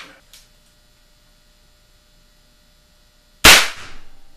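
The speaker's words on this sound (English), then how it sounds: "we're going to shoot a cap on the nipple just to make sure that everything is kosher in the ignition passage" A percussion cap fires on the nipple of an Alonzo Selden muzzleloading rifle, one sharp, loud crack that rings out briefly, set after a quiet stretch with faint hum and a small tick early on.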